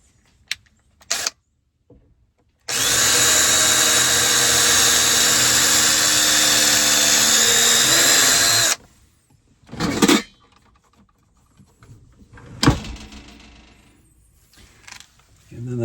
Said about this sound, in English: Let's go ahead and start with the drilling of this particular drawer right here.